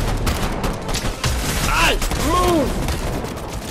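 Rapid bursts of shotgun and other gunfire in Fortnite, loud and close, with a voice shouting over the shots.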